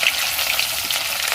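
A fish head hisses and crackles in very hot oil, a loud, close, continuous sizzle with no talking.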